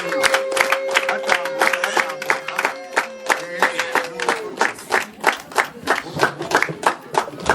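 Guests clap for a visiting family as they walk past and greet people, with a steady burst of many hands clapping at close range and a faint tone that fades out partway through.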